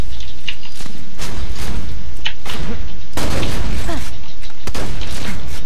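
Shotgun blasts in the video game Borderlands 2, several loud booming shots spaced irregularly among rumbling game action and mechanical clatter.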